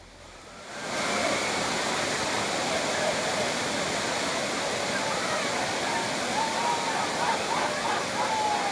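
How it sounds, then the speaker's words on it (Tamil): Steady roar of heavy water gushing down the main waterfall at Courtallam, a dense continuous rush that swells in after a quiet start and stays loud and even throughout. "மெயின் அருவியில் தண்ணீர் வரத்து ஆர்ப்பரித்து கொட்டும் நிலையில் சுற்றுலா பயணிகள் உற்சாக குளியல்."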